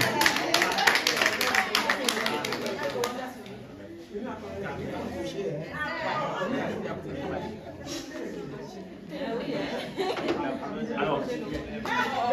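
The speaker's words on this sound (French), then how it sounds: "applaudissez pour notre champion" An audience at a French-speaking end-of-training celebration applauds a champion, with clapping and lively crowd chatter mixed together, strongest at the start and continuing beneath voices throughout.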